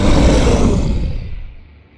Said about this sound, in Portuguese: Aquilo deu um poderoso rugido.